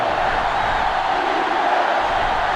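Roaring sellout stadium crowd at a Michigan vs. Ohio State college football game in NCAA Football 2005, a loud, dense, unbroken wall of cheering and noise with no pauses.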